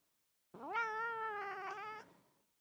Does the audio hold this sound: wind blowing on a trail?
no